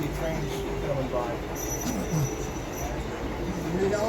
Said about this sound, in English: you'll actually see trains coming by